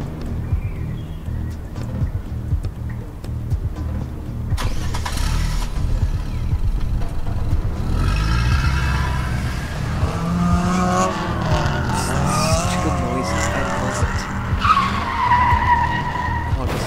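A car engine revs up and tires screech in a loud skid, with squealing rubber and a rising engine note building over several seconds after a quieter rumbling start.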